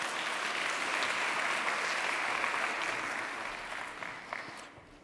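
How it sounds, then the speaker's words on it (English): An audience claps for a volunteer named Hayley, a dense, even round of applause that holds steady, then thins and fades near the end. "How about a round of applause for Hayley?"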